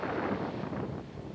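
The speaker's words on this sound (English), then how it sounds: "That's the wind." Wind blows outdoors in a soft, rushing gust that buffets the microphone, fairly faint and steady before easing slightly toward the end.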